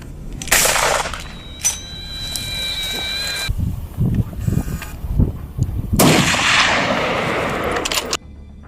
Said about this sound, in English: the Remington 700 tool, praised by hunters for its high accuracy and long-range shooting capability